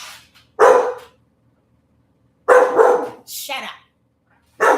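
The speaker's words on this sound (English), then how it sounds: "I didn't know he was going to start barking because I'm speaking." A dog barks in short bursts between stretches of silence, close and loud, with a person speaking over and around the barks.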